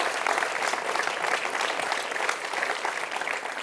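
Crowd applause at a political speech in Chartres: a loud, sustained roar of many hands clapping evenly throughout, close and full, with no voice over it.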